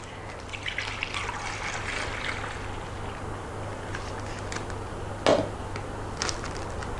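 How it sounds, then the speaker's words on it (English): Vanilla ice cream mixture trickles and dribbles from a container into a plastic bag, a soft continuous liquid pour under low room noise, with a brief louder splash partway through. "So you pour everything, the mixture, into this rubber like this."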